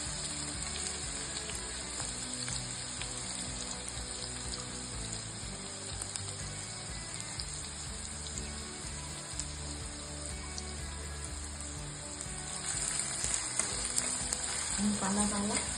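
Finely chopped onion frying in a pan for dhaba-style paneer bhurji, a steady dense sizzle running throughout with occasional stirring, getting slightly louder near the end.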